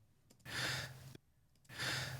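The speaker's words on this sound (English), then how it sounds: "So it looks like we got a breath here." Two audible breaths captured in a spoken voice recording with breath control switched off, each a soft airy inhale lasting about half a second, close to the mic with quiet pauses between them.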